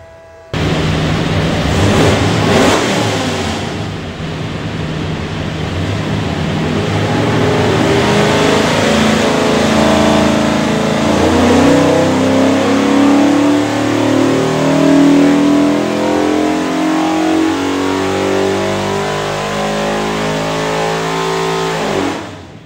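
Dart 363ci small-block Ford engine on a dyno with a carburetor, idling briefly then climbing in a long sustained wide-open rev that rises steadily in pitch for about twenty seconds before cutting off; loud and close, no talk.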